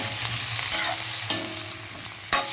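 Vegetables being stirred in a hot frying pan with fried lentil dumplings and tempering spices, a steady sizzle broken by three sharp scraping clicks of the spatula against the pan.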